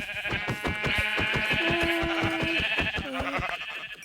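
Repeated sheep bleats from a game, wavering tones sounding over a steady electronic backdrop with a rhythmic pulse, continuous and fairly loud.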